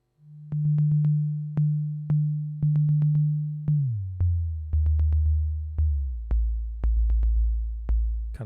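Basic bass drum sound patched on a modular synthesizer with Grids triggering and Ripples shaping the volume: a steady low tone pulses in repeated decaying hits with sharp clicks, its pitch dropping partway through, loud and alone.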